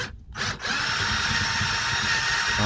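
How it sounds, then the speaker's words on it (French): Cordless drill boring out the rivets that hold a speaker in a Seat Ibiza 6L, a brief start and stop and then a steady loud whining grind up close, with no talk. "Solution, il va falloir percer."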